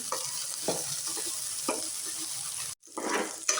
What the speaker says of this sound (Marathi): आता बऱ्यापैकी भेंडी परतत आली आहे, पाहिलं का. लसूणही परतत आला आहे.